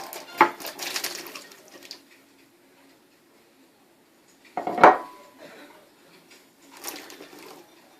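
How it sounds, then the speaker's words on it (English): Potatoes tumble into a stew pot already holding onions, peas and carrots for vegetable beef stew, landing as a few sharp clattering knocks in separate bursts with quiet gaps between. "Let's toss all those potatoes in."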